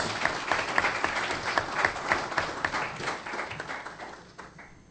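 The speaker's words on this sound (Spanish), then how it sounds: "Les pido un fuerte aplauso, por favor" A room of guests at a Mexican Masonic gathering applauds warmly to welcome a guest of honor, a dense, steady round of clapping close by that fades slightly toward the end.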